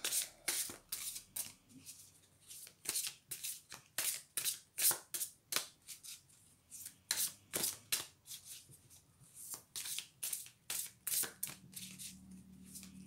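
Tarot cards being cut and shuffled by hand, a rapid series of crisp riffling snaps in a steady rhythm, close and clear with no talking.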